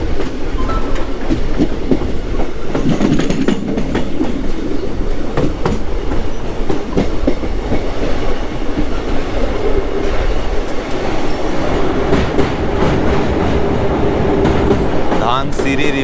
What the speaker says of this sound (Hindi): बहुत ज़बरदस्त ट्रैक का साउंड आ रहा है